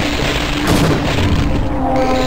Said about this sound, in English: Satchel charge. If I can avoid blowing myself up with it.